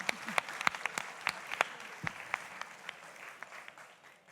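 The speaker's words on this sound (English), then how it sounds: "Big round of applause." Audience applause following a pre-seed startup pitch at a startup event, sharp scattered claps of a modest crowd, fairly near, thinning and fading toward the end.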